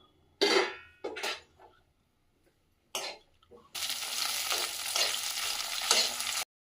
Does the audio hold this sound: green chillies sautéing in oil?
yes